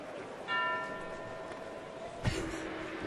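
A bell sounds once during a baseball broadcast, a short ringing tone that lingers briefly at moderate volume before a sharp knock, with low crowd murmur underneath.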